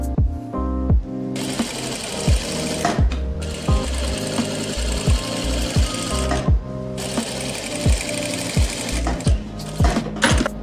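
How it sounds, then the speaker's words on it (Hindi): Sewing machine stitching the hem of a straight palazzo, loud close bursts of rapid needle clatter broken by short pauses, repeating several times with no talking. "ये तो अब हम इसकी सिलाई लगा रहे हैं, तो हमारी मूरी अब कंप्लीट हो जाएगी।"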